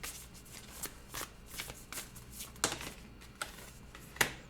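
Cards being shuffled for a tarot-style reading, a series of crisp riffling bursts and soft slaps repeating irregularly at close range, fairly quiet, with no talking.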